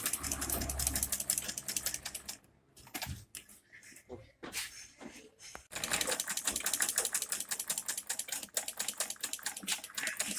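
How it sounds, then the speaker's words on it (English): A sewing machine stitches a zip onto a blouse in rapid, steady mechanical bursts. A short pause mid-clip breaks the run before close, loud stitching resumes and continues to the end. "So I'm going to sew this from this part,"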